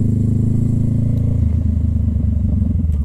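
A Honda CB500F motorcycle downshifting on a highway gives a loud, continuous low engine drone with wind rumble and a shift in pitch partway through, with no one talking.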